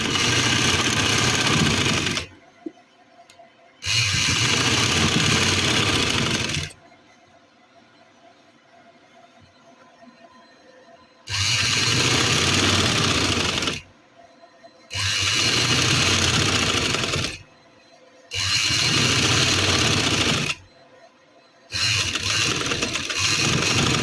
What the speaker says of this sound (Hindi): इसके ऊपर हम सिलाई लगा लेंगे और ये जो मैंने डिज़ाइन बनाया है इसका वो हमारा ऊपर की तरफ बैठ जाएगा